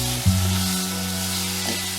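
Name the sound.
curry leaves sizzling in hot oil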